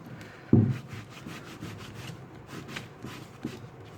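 Plaid wood tint being rubbed into wood grain by hand, a soft, close, continuous scuffing with one sharper thump near the start and faint repeated strokes after, no talking.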